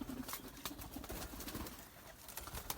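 Pigeons in a pigeon house coo softly under faint background hiss and occasional rustling knocks, a low, distant murmur lasting a few seconds.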